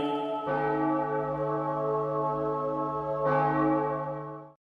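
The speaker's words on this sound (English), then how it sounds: "ding that bell today" A resonant bell ding, struck twice about three seconds apart, each strike ringing out loud and sustained with a long decaying tone.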